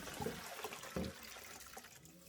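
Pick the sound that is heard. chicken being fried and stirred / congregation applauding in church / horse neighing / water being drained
water being drained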